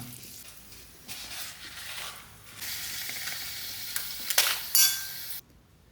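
Sun-dried kondattam chillies fry in a pan with a steady crackling sizzle that swells in the middle, along with a few scraping stirs and clinks near the end before the sound cuts off.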